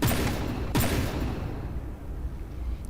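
Advanced cannons firing in From The Depths: two heavy, sharp blasts less than a second apart, each trailing off into a rumbling decay.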